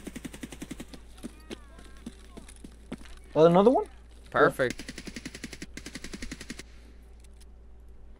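Gunfire in a zombies video game: two loud bursts of automatic fire around the middle, with scattered quieter shots before and after, under a player's voice speaking.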